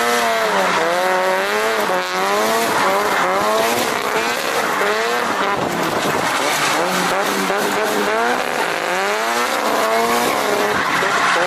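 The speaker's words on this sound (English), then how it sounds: "My S15 had a G25550 on it, and it sounded probably the best I have ever heard an SR sound" A Nissan S15 with an SR engine and a G25-550 turbo, driven hard and loud. The engine note rises and falls through repeated revs, with tire squeal and skidding as in drifting, sustained and close.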